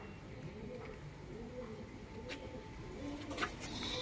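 Adult pigeons for sale, mukhi pigeons among them, coo softly in low, repeated murmurs, close by and steady over a faint background hiss, with no talking.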